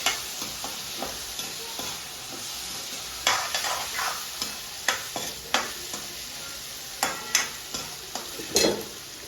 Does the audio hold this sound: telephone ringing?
no